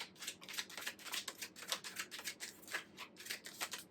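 A tarot deck being shuffled continuously by hand, heard as dense papery riffles and flicks in a quick, uneven rhythm, close but soft, with no talking.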